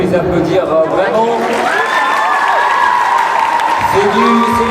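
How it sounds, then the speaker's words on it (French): A crowd at a manga convention cosplay contest applauds the contestants, a dense wash of clapping and cheering that holds steady throughout, with voices calling out over it. "On peut les applaudir vraiment."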